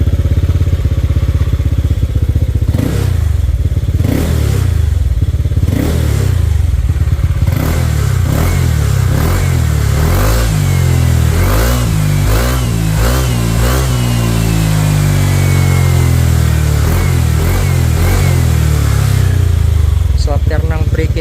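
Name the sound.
Honda Click 125 motorcycle engine revving during sound check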